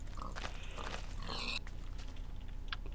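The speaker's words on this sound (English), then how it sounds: "I just slayed pigs" Pigs grunt and oink while being slain with an axe in the Minecraft video game. Several short, faint animal sounds come close together, with a brief rasping hit in the middle.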